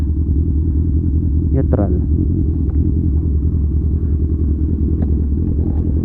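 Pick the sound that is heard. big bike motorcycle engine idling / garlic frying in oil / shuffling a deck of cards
big bike motorcycle engine idling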